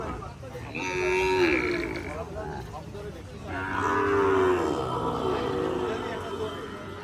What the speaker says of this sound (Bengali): একটা মোটামুটি শাহিওয়াল না গির জাতের একটা গরু আছে